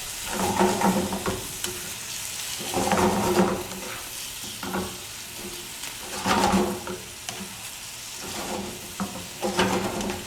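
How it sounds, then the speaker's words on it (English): Garlic and parsley sizzle in a pan over raised heat while being cooked for garlic shrimp. A steady frying hiss carries through with periodic swells of stirring and scraping, close and clear, with no talking. "You're just going to cook this down just for a few seconds again, raising the heat"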